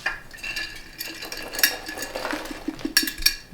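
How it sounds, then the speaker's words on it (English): A utensil stirs raisins into freshly baked pecan granola on a tray, making soft scraping and rustling with light clinks of metal against the pan, close and steady, with no voices. "Now it's just time to stir the fruit in and let it cool."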